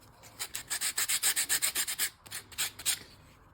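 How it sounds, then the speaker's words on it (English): Brisk, rhythmic scraping of sandpaper by hand on a wooden lamp piece, about a dozen quick strokes, a short pause, then a few more strokes, close by. "It's not necessary to sand the bottom of the bottom."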